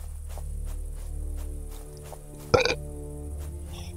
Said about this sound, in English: the burp of actual men